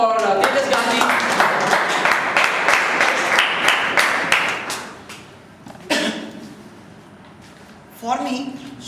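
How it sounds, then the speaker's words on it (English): An audience claps in a dense, steady round for a team member's introduction, holding strong for about five seconds before fading; afterwards a voice speaks, with a few scattered claps in between. "A round of applause for Tejas Gandhi."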